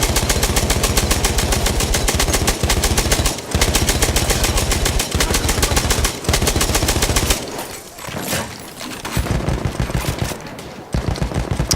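Perino Model 1908 light machine gun firing in Battlefield 1, with loud, dense bursts of rapid automatic fire that continue almost without pause, broken by a few short gaps and a quieter stretch near the end.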